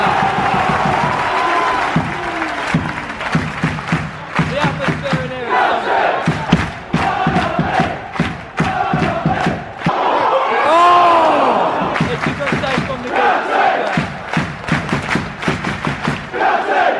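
A loud crowd of Notts County football fans in a National League stadium roars, chants and claps continuously, with sharp bangs and surges of shouting filling the ground from near and far.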